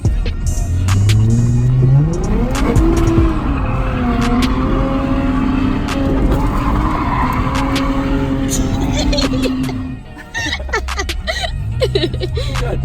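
A Lexus IS350 drifts with its engine revving hard and rising in pitch, while tires squeal loudly and continuously for about ten seconds, then cut off into quieter idle and background noise.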